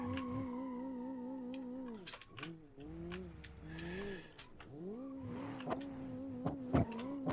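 A Fast and the Furious style drift car engine in BeamNG.drive revs and drones steadily near, its pitch rising and falling with throttle, with brief tire squeal as it slides.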